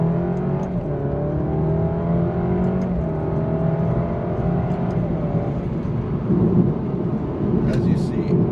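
A 2020 Alfa Romeo Giulia accelerates hard in a high gear, its engine note climbing steadily and droning loud and close from inside the cabin, with road rumble beneath and no talking.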